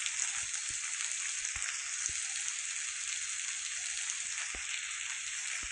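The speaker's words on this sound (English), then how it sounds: "Don't know how loud this rain is for you guys." Steady rain falling in a zombie survival video game, a constant dense hiss of drops with occasional faint low taps underneath, continuous and even throughout, no voices.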